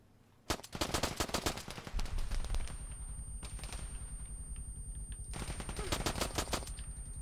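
Machine gun fire in the ArmA 3 video game: loud, rapid bursts of automatic shots, a long sustained volley in the middle and more bursts near the end, with no talking.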